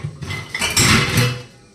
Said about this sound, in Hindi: बर्तन साफ कर दूं।